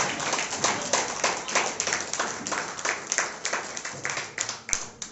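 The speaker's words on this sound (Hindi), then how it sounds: "आइए हम जगह पे खड़े होंगे, हम ताली देंगे प्रभु को।" Church congregation clapping together during a Sunday morning service, a steady run of hand claps across the whole stretch with a roomy, reverberant feel and some voices mixed underneath.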